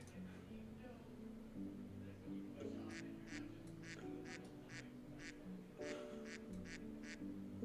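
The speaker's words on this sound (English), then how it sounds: "What is this quacking noise?" A run of rhythmic quacking, about a dozen short evenly spaced quacks in two bursts, sounds over a steady background of computer-game music.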